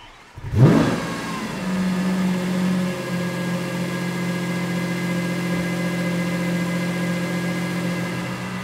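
A Lamborghini Countach LP800-4 starts up with a loud rising rev, then settles into a steady, close engine drone as it begins to pull away.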